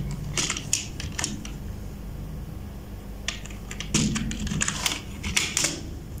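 Keys clatter on a computer keyboard as an email address is entered during a local WordPress install, in quick bursts of clicking separated by short pauses, close and moderately loud over a steady low hum.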